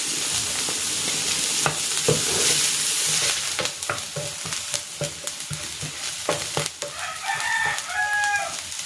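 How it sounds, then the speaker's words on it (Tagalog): Garlic and onion sautéing in a pan with an even sizzle and scattered stirring clatter, close and steady, while chirpy bird or rooster-like calls drift in faintly near the end. "Magigisa na ako dito ng bawang. At ng sibuyas."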